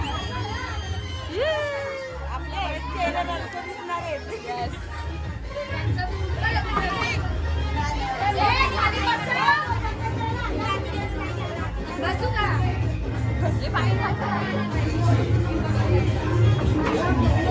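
A crowd chatters at a friend's wedding in India, a continuous babble of many overlapping voices with occasional louder calls and shrieks, and nearby people talking over the hubbub.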